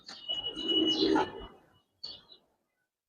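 A pigeon in a silver or colouring breed coo-calls nearby in a short, soft burst, followed by a faint rustle and then quiet.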